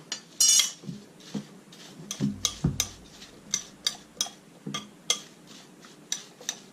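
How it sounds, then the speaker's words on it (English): Cinnamon stirred into apple pie filling: a spoon taps and clinks against a bowl in irregular light strokes with soft scraping between them, close and fairly quiet, no talk. "We're going to sprinkle this in and then stir it up a little."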